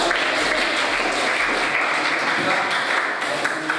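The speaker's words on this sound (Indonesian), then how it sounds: "Beri tepuk tangan buat." A classroom full of students applauds, a dense, even wash of clapping that holds steady for several seconds at close range.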